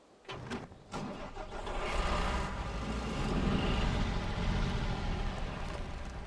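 A Land Rover engine in Snowrunner turns over with two quick cranking bursts. It then catches and settles into a steady, moderately loud mid-pitched running drone with no talking.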